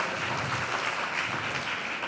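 Steady dense applause from a conference audience of CA students, a continuous even wash of many hands clapping throughout the short stretch, with no voices standing out.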